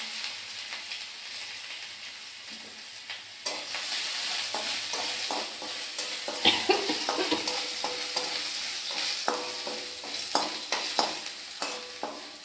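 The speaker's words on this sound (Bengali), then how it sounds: "এই রসুনটা একটু ভাজা ভাজা হইব" Garlic frying in hot oil with dried red chillies and mustard for sour dal, a steady bright sizzle with frequent spoon stirring and scraping clicks, close and continuous.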